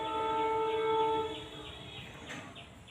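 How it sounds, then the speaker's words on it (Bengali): A train horn sounds from a railway station as a single steady tonal blast lasting about a second. It fades under faint outdoor ambience. "রেল স্টেশনে ট্রেনের ডাক শোনা যায়"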